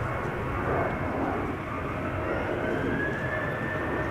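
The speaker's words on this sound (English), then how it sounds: "we have a 737-800 to Edinburgh that is now lined up, ready to go" KLM Boeing 737-800, flight 925 to Edinburgh, 24 years old, lined up for departure at Amsterdam Schiphol: a loud, continuous jet engine roar with a faint rising whine, steady and close, with no speech.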